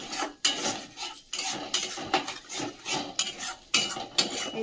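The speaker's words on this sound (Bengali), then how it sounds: "এইভাবে ডিমটাকে ভালো করে নাড়িয়ে ভুজিয়া করে নিচ্ছি" Spatula or spoon scrapes and clinks against a pan as beaten egg with a little salt is stirred into egg bhujia, giving a steady run of close, bright metallic scraping and tapping with brief pauses.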